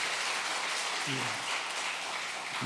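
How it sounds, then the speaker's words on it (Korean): A church congregation applauds together during a Sunday children's worship service, a steady wash of clapping running for the full stretch at even loudness, with a voice briefly heard over it. "한번 뜨겁게 한번 박수로 격려하겠습니다"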